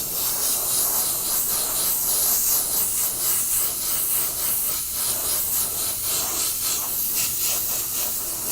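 Autoborn red sealer sprayed from an aerosol can onto a 3D printed model, a steady loud hiss running continuously with slight pulsing and no talk.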